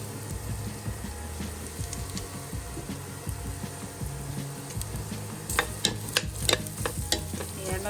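Garlic sautéing in olive oil in a pan, a steady close sizzle with scraping stirring strokes and a few sharp clinks of utensil on the pan near the end.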